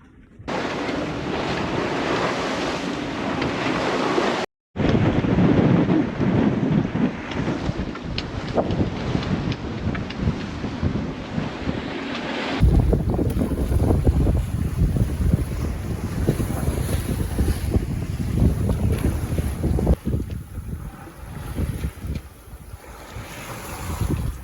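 Waves and strong wind at sea aboard a sailboat on a solo close-hauled passage, a loud continuous roar of wind buffeting the microphone over rushing water and hull noise, with a brief dropout and no one talking.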